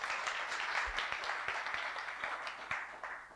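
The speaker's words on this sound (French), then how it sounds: "On s'applaudit." Conference audience applauding during a talk on the Sylius e-commerce platform, a broad, steady wash of clapping from a roomful of people that holds for a few seconds and tapers slightly at the end.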